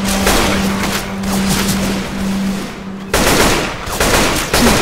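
Gunfire aimed at zombies in the Left 4 Dead 2 game, a steady run of rapid shots that breaks briefly and then resumes louder, with a constant in-game hum behind it.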